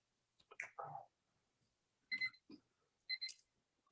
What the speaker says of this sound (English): Timer up.